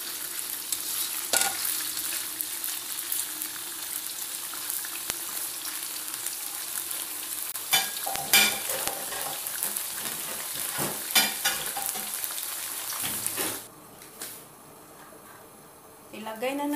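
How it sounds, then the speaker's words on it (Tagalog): Food fries in a pan until brown, giving a continuous close sizzle with scraping stirs and clatters of the utensil, before the sizzling drops away near the end. "Fry lang siya hanggang maluto"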